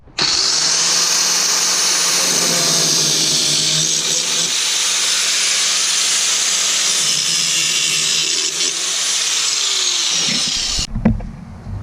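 Loud, steady power grinding of a protruding wood screw tip on a DIY wooden storage box for a plasma cutter, continuing for about ten seconds before cutting off, followed by faint handling clatter.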